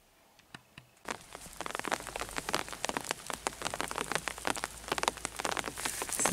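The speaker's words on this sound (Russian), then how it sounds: "И вот прошелся такой мелкий-мелкий дождик." Light rain falls outdoors in warm weather, beginning after a second of near quiet and continuing as scattered drops tapping close by, growing denser, with no voices.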